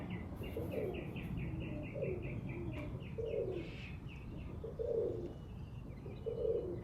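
Young homing pigeons flying in a kit mix repeated close coos with a rapid, rhythmic high chirping or wing-like pulsing, steady and moderately loud with no talk.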